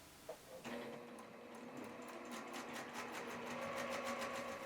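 A sewing machine stitches a scant quarter-inch seam around a log cabin quilt block, starting after a brief click and then running in a steady, fast rhythmic whir close by, with no one talking.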